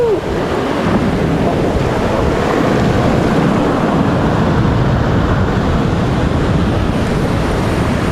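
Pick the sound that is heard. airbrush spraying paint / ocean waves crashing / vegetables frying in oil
ocean waves crashing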